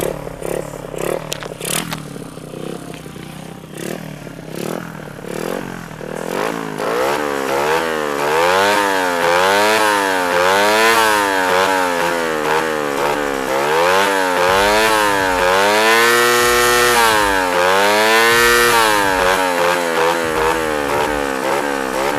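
A modified motorcycle engine with a freshly tuned PE carburetor revs hard and repeatedly toward its highest RPM, the pitch rising and falling in loud, close, rasping waves with no voices.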